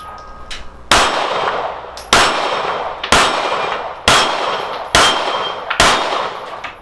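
Six crisp 9mm pistol shots hit steel target plates in a steady, roughly one-second rhythm, each crack followed by a bright ringing clang that fades before the next shot on an outdoor range.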